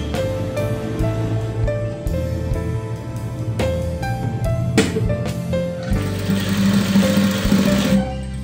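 Domestic sewing machine stitching the triangular end of a sleeve placket on a child's shirt cuff, a steady close mechanical whir running throughout with a few brief pauses and shifts in speed.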